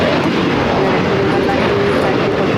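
United Boeing 757-300 arriving at Los Angeles International Airport, a steady loud broadband jet roar with a faint whine, continuous and close throughout.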